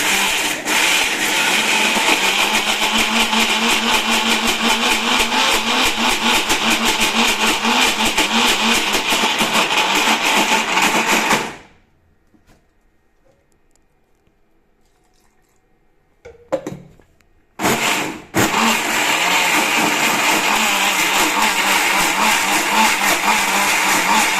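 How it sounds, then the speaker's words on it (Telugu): A mixie grinder runs hard and continuous while blending dosa batter smooth, then stops abruptly into near silence. It briefly restarts with short bursts and resumes full whirring, loud and close. "ఇలా మిక్సీ మెత్తగా పట్టేసుకోవాలి"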